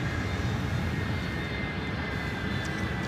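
Steady, loud roar of a Boeing 757 jet's engines as it pushes back from the gate at LAX, a constant broadband rumble and whine holding unchanged throughout, with no voices.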